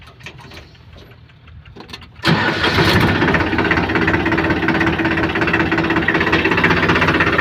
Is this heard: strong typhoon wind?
no